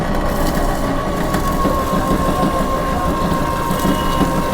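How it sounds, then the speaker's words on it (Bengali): A battery-powered sugarcane juice machine grinds sugarcane, giving a steady, loud, dense mechanical crushing and whirring roar with rattling texture throughout. "জাস্ট আমি মেশিনে সুইচ দিলাম আমার মেশিন ঘুরতে শুরু করে দিয়েছে দেখুন এই আমি আখ নিলাম"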